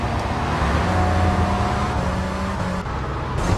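The Infernus sports car in GTA III drones with a steady, loud engine hum that holds for a few seconds with slight pitch shifts, alone, with no talking.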